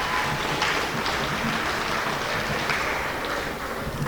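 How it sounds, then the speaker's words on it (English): A school audience in a hall applauds 8th grade award winners at a junior high awards program, with steady, fairly loud clapping filling the whole stretch and no talking over it. "Round of applause."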